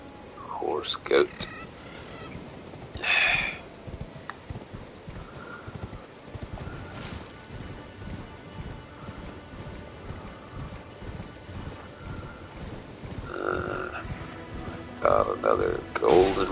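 In a fantasy video game near Castle Morne, a horse's hooves clip-clop in a steady rhythm, with occasional whinnies and louder bursts of game sound around it, close and clear throughout.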